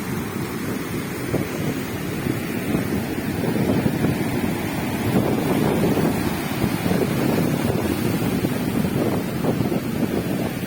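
Sea waves wash in as a continuous, broad roar of surf, mixed with blustery wind buffeting the microphone, with no voices present.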